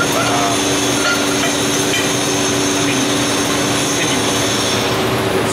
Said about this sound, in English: Now it's engaged, and we have the gears turning.